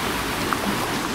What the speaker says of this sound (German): Man hört wahrscheinlich gerade gar nichts, weil da ein Wasserfall ist.